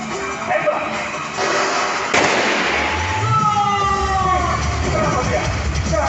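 A loud bang from a bazooka shot at an outdoor SWAT-versus-clown stunt show at Trans Studio Cibubur, a sharp burst over steady crowd and show noise, followed by a whistling, siren-like tone and ongoing commotion.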